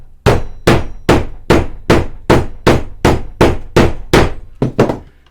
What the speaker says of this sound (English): Put your little pin tool inside there, your hammer, give that a tap